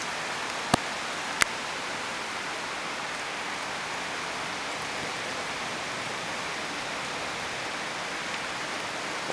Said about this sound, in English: It's actually raining cats and dogs outside.